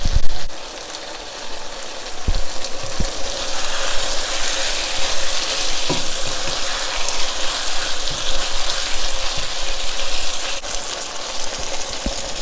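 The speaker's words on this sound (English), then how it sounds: "Continue frying each side until it's done." Spicy beef bulgogi sizzles in a pan with a steady, dense hiss, close and continuous, broken by a few faint clicks and taps from handling the meat.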